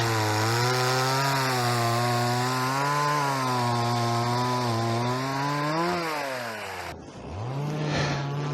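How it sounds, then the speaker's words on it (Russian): A chainsaw cuts firewood outdoors in a snowy village, its engine droning loud and steady for about seven seconds, then briefly dropping off before revving back up near the end. "Пила мешает."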